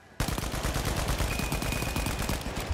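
Rapid automatic gunfire in the video game The Finals bursts in after a brief quiet start and continues loud and dense throughout, a steady stream of close shots with a faint tone running underneath.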